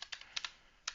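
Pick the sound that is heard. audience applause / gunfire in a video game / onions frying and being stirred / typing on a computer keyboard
typing on a computer keyboard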